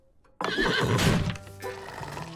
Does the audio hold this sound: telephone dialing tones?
no